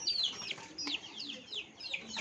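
Young poultry chicks cheep in a shrill, scattered chorus during IBT vaccination on a poultry farm, faint calls overlapping with soft handling noise.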